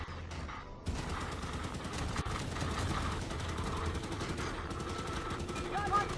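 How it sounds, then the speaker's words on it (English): Cannon fire in the Halo 5: Guardians campaign, a steady barrage of blasts and rapid shots. It starts abruptly after a brief lull and keeps rolling densely for several seconds, with no talk over it. "here comes some more cannon fire"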